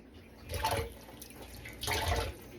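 Water splashes as a hand is wetted while making sushi rolls, two short bursts of trickling and splashing close by, separated by a quieter pause.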